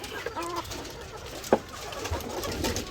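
White leghorn chickens on a farm give a faint, brief cluck or coo around a steady low ambient hum, with soft, scattered bird calls in the background.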